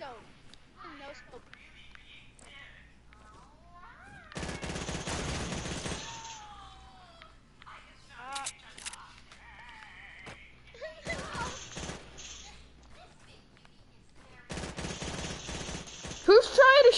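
Gunfire in a PS4 video game, loud broadband bursts around 4–6 s, 11–12 s and near the end, under and between players talking.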